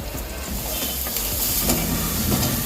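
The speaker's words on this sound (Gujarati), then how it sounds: "હવે આપણે આ ઝીણો કટ કરેલો કાંદો નાખી દઈશું." Finely chopped medium-sized onion goes into a hot pan and sizzles loudly and steadily, a close, even hiss that continues without a break.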